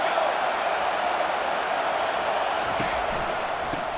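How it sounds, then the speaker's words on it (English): Dense, steady roar of a college football stadium crowd during a USC versus Georgia game, a wide even wash of noise that holds at constant loudness, with faint hints of commentary beneath it. "This crowd trying to make life miserable for this offense."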